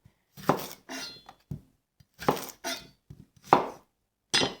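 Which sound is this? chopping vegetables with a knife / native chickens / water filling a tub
chopping vegetables with a knife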